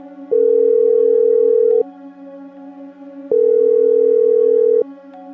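Two long, steady electronic telephone tones sound alone, each lasting about a second and a half with a pause between, over a faint background hum.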